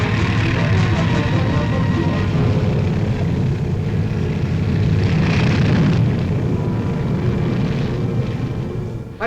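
A TWA airliner in flight gives off a steady, loud, broad engine roar that drones evenly from start to finish.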